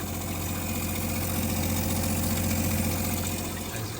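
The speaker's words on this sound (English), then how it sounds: "So I'm getting as close as possible to the pump. See, it's much quieter, like very, very quiet." Upgraded quiet 40–100 PSI water pump in a camper van running steadily up close, a continuous low, even hum with a faint high whine and no pauses.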